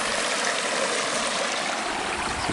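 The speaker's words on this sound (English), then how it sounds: "it's a pretty little creek, huh?" Small creek in Lake County, California running over serpentinite boulders, a steady close rushing and gurgling of flowing water with no voices.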